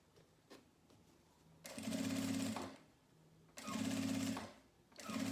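A sewing machine stitches fabric along a zipper edge while making a manicure pouch, in three loud, steady whirring bursts separated by quiet pauses.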